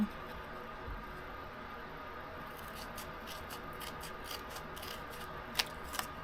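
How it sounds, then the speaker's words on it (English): Soft, faint rubbing and snipping during the cutting of a piece for an octagon insert in a Scottish castle box, with a couple of sharper cuts near the end over quiet room noise. "Alright, now I gotta get this piece put in. And I'm going to cut it a little bit."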